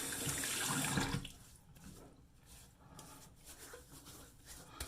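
Tap water runs into a sink during a wet shave with a razor, a steady close splashing rush that cuts off after about a second, leaving a quiet room with soft trickles and small movement sounds.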